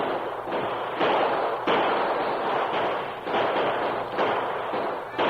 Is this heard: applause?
no